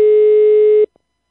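A steady telephone tone rings out loud and unbroken for nearly a second, heard while a call is placed to a woman named Diana, then cuts off abruptly, leaving only a faint click.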